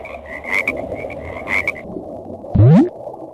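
A frog croaks once, loud and close, a deep rising gulp near the end, after softer repeated trilling calls over a background of night-time noise.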